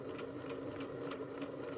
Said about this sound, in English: I will go ahead and sew forward 3, and then backward 3, and then forward 3.